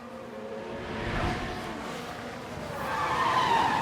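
Lance Stroll's Formula 1 car locks up in the F1 Manager 24 game at the 2025 Australian Grand Prix, a sustained tire skid and squeal over engine roar that builds steadily for a few seconds, heard alone.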